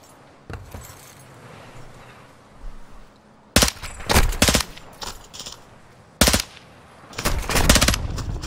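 Gunfire in the Modern Warfare II video game campaign comes in two loud, close automatic bursts of several rapid shots each, separated by quieter background game noise.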